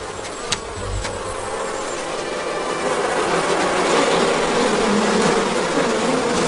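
Bees buzzing in a dense, steady drone that thickens and grows louder toward the end, with a brief knock near the start and no voices over it.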